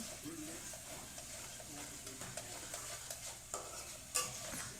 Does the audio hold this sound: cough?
no